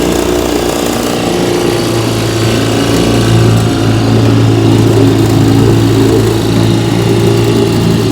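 An Evinrude Model 3706C outboard boat motor runs continuously on a bayou test run, a loud, close, buzzing drone with a steady low throb and no breaks.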